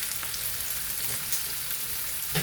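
Sliced onions sizzling in hot oil in a pan for a Kerala-style tuna dry curry, a steady close crackling hiss with faint soft stirring, no voices.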